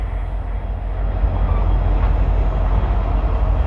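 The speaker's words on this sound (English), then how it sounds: "there's an actual train moving over there" Low, steady rumble of a train rolling along nearby tracks at the Route 66 Historic Village in Tulsa, growing slightly louder, with no voices.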